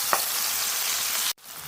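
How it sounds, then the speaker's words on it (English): Onions, tomatoes and salted fish (momoni) sautéing in a pan for Ghanaian okra soup, a dense even sizzle that cuts off abruptly near the end, then resumes faintly. "We are going to cook this on medium heat for a minute so that we can have the onions and tomatoes lightly sauteed, as well as the salted fish"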